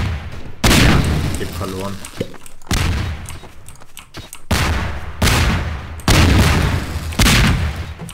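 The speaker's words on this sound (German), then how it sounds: "Die Explosion ist jetzt dermaßen stark." Repeated heavy booming blasts from exploding barrels in the video game Garry's Mod go off in bursts every second or so, loud and close, with a voice briefly speaking between them.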